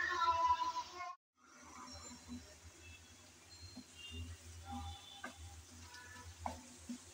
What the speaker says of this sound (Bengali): নেড়ে চেড়ে আমি ভালোভাবে কষানোর চেষ্টা করছি।